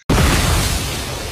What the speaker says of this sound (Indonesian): sebuah alat yang mirip meriam menghamburkan Jipang dengan diikuti suara ledakan sangat keras